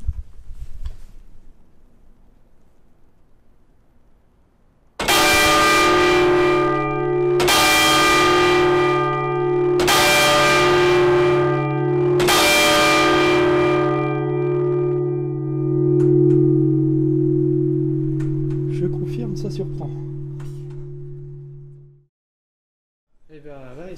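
Church bells ring inside a clock tower belfry with wooden support beams, heard up close: four loud strikes about two and a half seconds apart, then a long humming decay that fades out.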